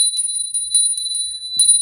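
A small ritual bell rings several times in quick strikes, clear bright tones repeating and sustaining, close and alone at the end of a love ritual.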